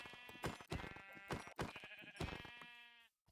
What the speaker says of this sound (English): Oh, hey, look. Sheep.